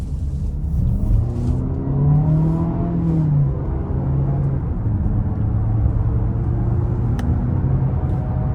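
A 2025 Nissan Murano SL accelerates hard on the road, with a steady in-cabin engine drone and whirring rising in pitch over several seconds above a constant low road rumble. A faint click near the end.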